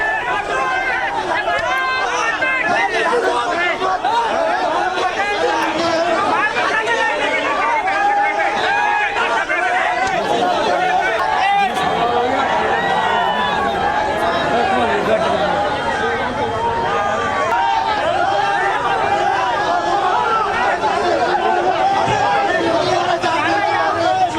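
An agitated crowd of Shiv Sena UBT workers clashes outside a vote counting centre in Jalgaon, a dense constant roar of shouting voices and babble that stays loud throughout.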